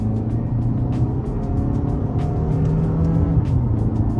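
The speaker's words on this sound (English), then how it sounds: "We'll close this review off after this one last acceleration." A 2023 Toyota Camry XSE pulls under half throttle, its engine note holding a steady, fairly loud drone with a rising hum from inside the cabin, accompanied by road and tire noise and no talking.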